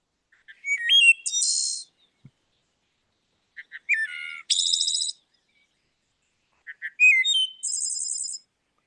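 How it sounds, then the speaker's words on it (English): A wood thrush sings three separate phrases, each a few quick soft notes followed by a bright fluting trill, with clear silent gaps between phrases in a quiet setting. "Yes, Douglas, we would love to hear a wood thrush."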